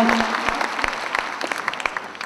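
A small audience at a Hindi poetry gathering in Jaipur claps for a couple of seconds, a patter of individual hand claps at close range.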